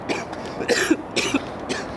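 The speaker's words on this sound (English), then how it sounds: "I just can't breathe from this cough." A person coughs repeatedly in harsh bursts, close by, with a rough throaty quality.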